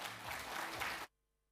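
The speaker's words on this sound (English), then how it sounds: "Another round of applause, please, ladies and gentlemen." Conference audience applauding after a talk on broadband and AI for Africa, a dense wash of many hands clapping that stops abruptly, leaving near silence.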